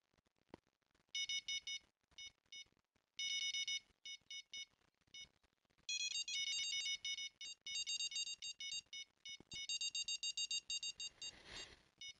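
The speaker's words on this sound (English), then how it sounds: "Got a little beeper fest going on here." A fishing rod bite alarm in Fishing Planet beeps in bright, rapid electronic bursts, first in short separated clusters and then in a longer, almost continuous run of beeping, with no talk over it.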